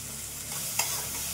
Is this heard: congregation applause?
no